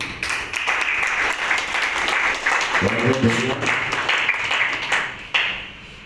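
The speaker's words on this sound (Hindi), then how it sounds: "सब एक बार फिर से ताली बजा दो" Applause at a Farmers' Day event held at a Brahma Kumaris centre in Gandhwani, an audience clapping for the farmers in a continuous, fairly loud wash, with voices mixed in over it.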